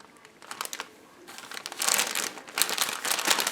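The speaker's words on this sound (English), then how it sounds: "I know people don't like the crinkling, but I wanted to show you how it came in the package." Plastic packaging from an AliExpress order crinkles and crunches close by in bursts, starting quieter and growing louder and denser toward the end, with no voices.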